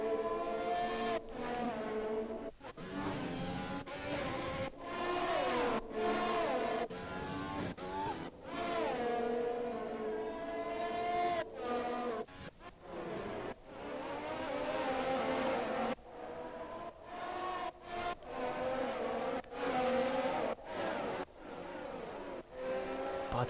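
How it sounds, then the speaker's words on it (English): Formula 1 cars in the F1 2020 video game race past one after another, loud high-pitched engine whines rising and falling with sharp gear changes and Doppler sweeps. "we can already hear Bottas and Vettel flying past, and Kvyat."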